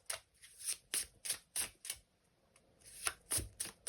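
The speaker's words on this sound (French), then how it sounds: "Je tire une deuxième carte." Tarot cards handled and drawn from a deck, a series of crisp papery slaps and flicks in a quick irregular rhythm, close and fairly quiet with no voices.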